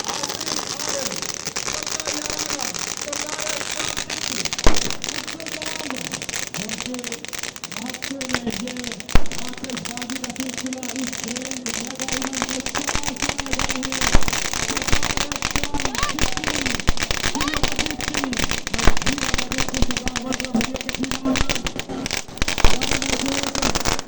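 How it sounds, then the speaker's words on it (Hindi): Continuous crackling of firecrackers with scattered louder bangs at a street rally in Lahore, a dense sputtering barrage lasting throughout, with voices faintly underneath. "आतिशबाजी का ये खूबसूरत सिलसिला इस वक्त चलता हुआ जारी हो जारी है"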